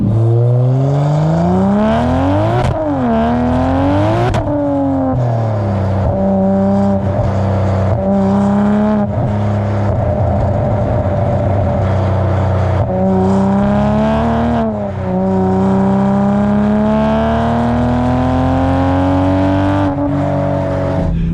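A car fitted with a new exhaust revs and drives, its loud engine note sweeping up and down through repeated throttle blips and gear changes over about twenty seconds, close and dominant without any talking.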